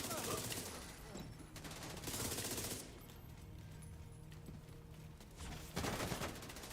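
Gunfire in The Division 2: bursts of rapid shots and fusillades roll through the whole stretch, loudest near the start, middle and end. Voices talk over the shooting.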